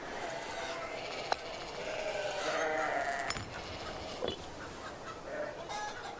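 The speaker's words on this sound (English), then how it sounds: "Goats? Oh, seagulls." Game bird calls from the strategy game Imperator: Rome, meant as seagulls: a steady layer of squawking and bleating-like cries over ambient noise, with a few sharp clicks.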